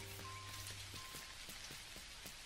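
Steady rain patters across the ground in the farming game Dinkum, a soft continuous hiss with faint drops throughout, alongside light game tones and no talking.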